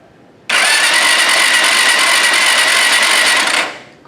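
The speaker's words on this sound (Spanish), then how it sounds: "le damos con el botón de arranque." A motorcycle cranked on its starter button in an ignition-system demonstration gives a sudden, loud, sustained whirring buzz for about three seconds, then fades out, with no voices.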